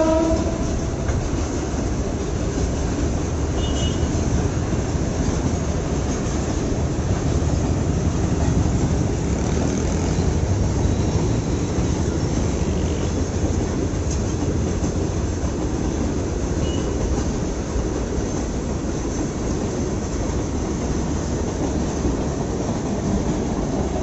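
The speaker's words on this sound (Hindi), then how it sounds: "तो ये रहा एक गुड्स ट्रेन" A heavy goods train rumbles past steadily on an Indian railway line for the whole stretch, a loud continuous roar of rolling wheels and rattling wagons with no talking.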